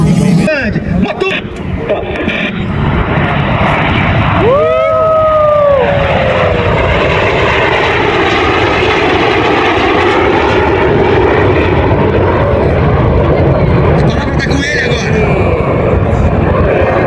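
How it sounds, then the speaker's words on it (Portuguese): Fixed-wing airplane passing over an air base during an air show, a loud sustained engine roar that swells and sweeps in pitch as it goes by, with a crowd and people chatting throughout. "Tu viu o avião?"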